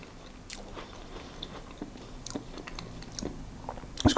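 Someone bites into a crisp homemade Abbey Crunch golden syrup biscuit and chews it, giving a series of close, dry crunches and crackles that grow louder toward the end, with no one talking.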